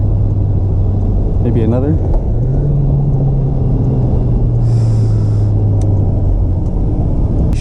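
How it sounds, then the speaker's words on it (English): A Volkswagen 1.8 Turbo car heard from inside while downshifting, a steady droning engine hum that steps up in pitch after the shift, with a brief spoken remark partway through. "A little downshift over here."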